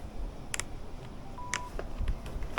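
A Bluetooth motorcycle helmet headset switching on gives short electronic beeps and a brief sustained tone, fairly faint and spaced apart against a quiet background.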